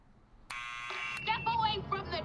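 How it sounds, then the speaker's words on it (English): A harsh electronic door buzzer in a Back to the Future video game sounds for under a second, then a voice starts talking over a faint musical background. "Okay, there's a buzzer."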